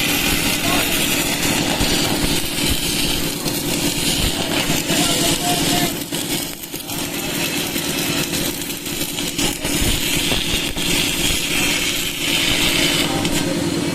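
A 400-amp DC inverter MMA welding machine cutting at full power with a number 10 electrode, giving a loud, steady buzzing crackle with a harsh rasp that dips briefly midway, with voices faintly underneath.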